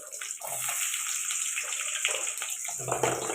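Small chopped onions, about fifty grams, tipped into hot oil with mustard seeds for an egg thokku, giving a steady bright sizzling hiss that swells and crackles close by throughout.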